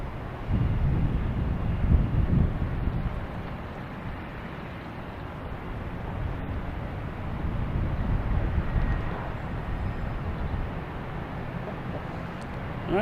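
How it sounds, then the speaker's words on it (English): American Airlines Airbus A321 arriving at Boston Logan Airport from LAX, a continuous low broadband engine roar heard at a distance, with wind noise on the microphone throughout. "Also have an American Airlines coming in. From LAX, A321."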